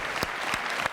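A television studio audience applauds in a brief burst of clapping, a few louder claps standing out from the patter.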